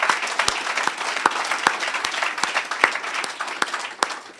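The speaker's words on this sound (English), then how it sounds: "So let's all give him a round of applause." Applause from a live graduation audience, a mix of steady clapping from a modest crowd with several sharp, distinct individual claps standing out near the microphone.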